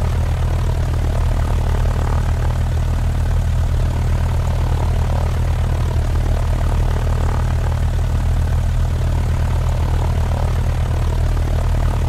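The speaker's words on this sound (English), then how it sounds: "Flight 527, runway 18, clear for takeoff." Propeller airplane engine in an Android flight simulator game, droning steadily and loudly through its takeoff run, a constant low hum with no pauses and no talk.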